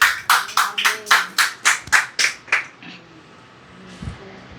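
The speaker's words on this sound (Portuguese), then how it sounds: "Dê um aplauso ao Senhor" A church congregation claps in a steady rhythm during a worship service, about nine sharp, evenly spaced beats over a few seconds before fading into a quiet room.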